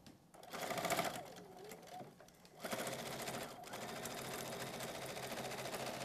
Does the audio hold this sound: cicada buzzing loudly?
no